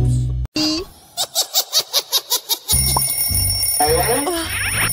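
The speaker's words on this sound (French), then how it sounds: "Le réveil sonne, il est donc temps de se lever." An alarm clock rings in a quick run of about eight evenly spaced, bright pulses, then gives way to a loud, busy wash of noise.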